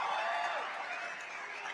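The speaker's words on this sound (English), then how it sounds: "First and only cheer, by the way." A comedy show audience cheers and applauds in a dense, steady wash of crowd noise, moderately loud, lasting under two seconds with no clear speech.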